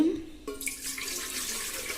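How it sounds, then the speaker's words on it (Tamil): Water poured from a vessel into an idli steamer pot at home, a brief splash followed by a steady broadband rush of filling water, close and fairly loud. "தண்ணி ஊற்றி வச்சாச்சு இட்லிக்கு."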